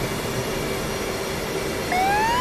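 A CF-18 jet engine in the DCS flight simulator game gives off a steady, loud turbine roar with a high whine, and near the end a rising tone sweeps upward as the pitch climbs.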